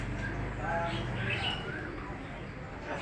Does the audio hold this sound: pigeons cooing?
yes